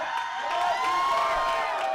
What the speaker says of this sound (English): The crowd firing up Big Money Marconi.